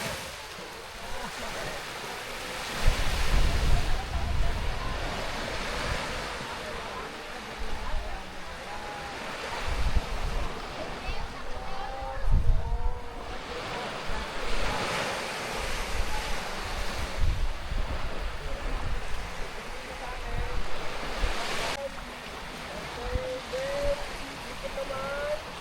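Sea waves wash onto the beach at Boracay island in the Philippines, a rolling surf with repeated surges and heavy wind buffeting the microphone, while someone talks intermittently over it.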